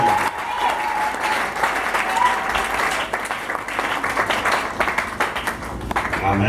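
Church congregation applauding the Lord, a full, sustained round of loud applause from many hands, steady and dense throughout with faint voices mixed in.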